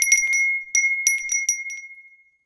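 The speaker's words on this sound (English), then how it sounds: "my bell doesn't make enough noise" A small metal hand bell rings in a quick series of bright, clear strikes, close and loud, with a long ringing tone that fades away at the end; no voices.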